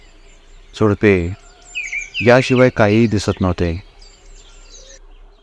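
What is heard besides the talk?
birds chirping in forest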